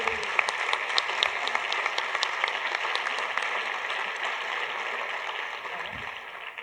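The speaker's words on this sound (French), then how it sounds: "On peut les applaudir très chaleureusement." An audience at a closing ceremony applauds the speakers, a dense, steady wash of many hands clapping that carries on evenly throughout, with a faint murmur of crowd underneath.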